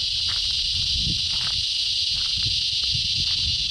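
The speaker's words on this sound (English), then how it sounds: "You can hear the cicadas going off." Cicadas at the Denham Ranges campground in Crediton State Forest drone in a loud, steady high-pitched buzz that holds continuously, with faint low rustling and knocks underneath.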